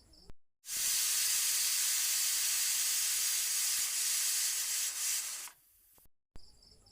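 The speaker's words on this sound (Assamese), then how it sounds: "এইখিনি মই এতিয়া চিটি মৰাই ল'ম 2টা" A pressure cooker cooking red lentils with salt and turmeric lets off steam in a loud, steady hiss that lasts about five seconds, then cuts off abruptly.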